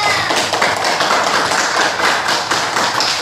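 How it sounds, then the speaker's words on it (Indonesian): A group of children claps hands together in a classroom, a dense, steady patter of many quick claps lasting a few seconds, close and fairly loud, with no voices over it. "Tepuk tangan untuk semuanya"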